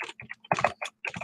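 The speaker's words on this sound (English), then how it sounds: "Let me just type something here in the chat box." Quick typing on a computer keyboard while entering a message in a chat box: close, irregular clusters of light key clicks over just over a second.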